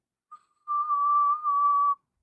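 A steady high whistle tone from a phone app, meant as a dog whistle, plays alone for over a second after a brief short blip, clear and unbroken.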